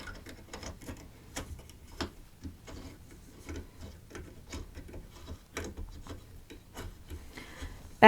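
Small mini printing press being tightened up by hand: soft rubbing and ratcheting mechanical clicks in an irregular rhythm, close and fairly quiet, with no speech.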